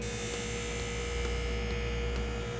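Skate sharpening machine running a finisher on the edges of a skate, a steady loud electrical hum with a constant motor drone throughout and no talking.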